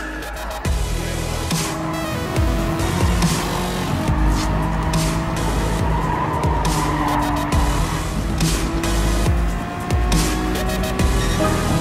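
A Formula One race car lapping Suzuka in a racing video game, the engine screaming loud and continuous through rising and falling gear changes, with tire squeal and skidding in the corners.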